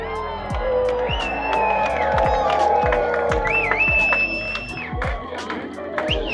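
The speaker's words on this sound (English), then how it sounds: "They're cheering." Crowd of onlookers cheering and whooping as the sun dips below the horizon at Key West, a broad wash of voices with scattered claps and shouts, while nearby people chat over it.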